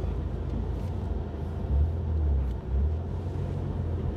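A Bentley accelerates, its engine building into a deep, steady low rumble that swells and dips slightly over a few seconds, heard from close by with no voices.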